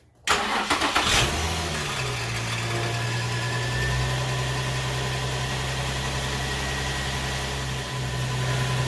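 An Infiniti G35 coupe engine cranks briefly and catches, then settles into a steady, close, even idle hum that runs on alone for several seconds.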